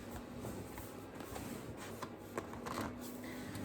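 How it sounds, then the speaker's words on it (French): Plastic blister packaging is peeled from a box of colored pencils, producing faint, close crinkling and soft rustling handling noises throughout. "Je viens d'enlever le blister."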